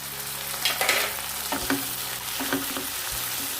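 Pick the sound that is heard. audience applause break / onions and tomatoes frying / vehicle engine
onions and tomatoes frying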